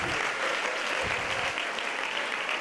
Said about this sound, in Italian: Io farei un applauso alla nonna, veramente